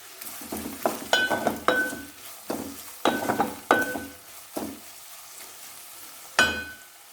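Onion pieces cooking with salt in a pan: a series of scraping, stirring strokes with soft sizzling and occasional light clinks of a utensil on metal, close and clear.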